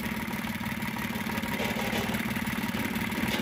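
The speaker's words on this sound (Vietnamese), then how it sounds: "Máy nổ như xe hơi." A Shibaura N843 32 hp marine diesel engine runs steadily at close range, a loud continuous throbbing hum with a rapid mechanical clatter and no talking.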